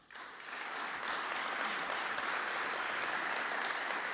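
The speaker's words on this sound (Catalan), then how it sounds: "A tots ells els volem donar les gràcies amb un fort aplaudiment." Loud, steady applause from an audience at a digital marketing awards ceremony, building quickly and holding as dense, continuous clapping throughout.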